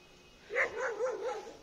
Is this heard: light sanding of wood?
no